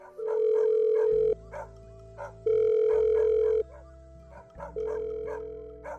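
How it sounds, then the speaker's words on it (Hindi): Dogs bark in short, repeated bursts at night as a horror story sound effect, heard alongside long steady phone tones in alternating stretches. "हमारे घर के बाहर कुत्ते इतने जोर जोर से भौंक रहे हैं"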